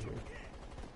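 Rapid gunfire in a video game, dense bursts of shots sounding close and loud almost continuously, with faint voice sounds mixed in.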